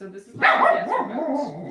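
A dog barks and yips close by, several rough, excited calls running under a voice as he talks.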